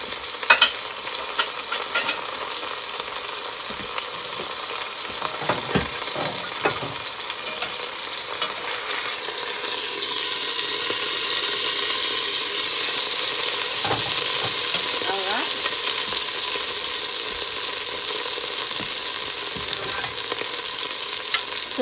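A venison roast fries with onion and ginger in a pot, giving a loud, steady hiss that swells and brightens partway through, broken early on by occasional clinks and scrapes, with no voices.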